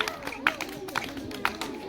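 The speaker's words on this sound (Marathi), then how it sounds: "त्यासाठी एकदा जोरदार टाळ्या वाजवा रे." Students at a school quiz competition clap for a correct answer, with short, irregular bursts of applause in a small room and a little chatter mixed in.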